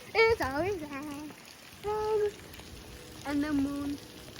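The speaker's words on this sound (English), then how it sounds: "Rain, rain, rain. It's always rain." Steady rain patters outdoors in a continuous soft hiss during a thunderstorm, running under a child's sung and spoken voice.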